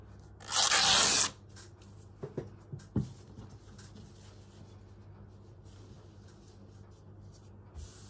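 Scissors trimming a piece of fabric for a slow-stitch owl collage, heard as one loud, dense cut up close, followed by a few quieter snips and light handling noises.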